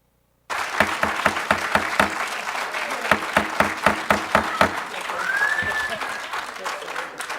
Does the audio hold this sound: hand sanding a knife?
no